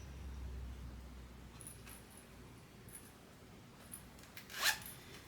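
The zipper on the pocket of a sewn purse is pulled open in a quiet room, with faint scattered handling ticks and then one brief, sharp zip near the end.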